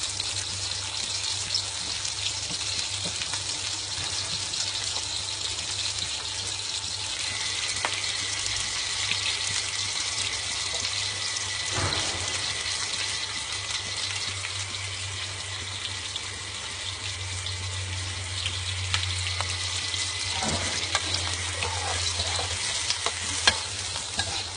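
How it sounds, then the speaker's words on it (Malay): Sze Chuan vegetables stir-fried in a hot wok until wilted, giving a steady, loud sizzle and hiss throughout, with occasional scraping stirs and no voices. "Seperti biasa, kita tumis hingga dia layu."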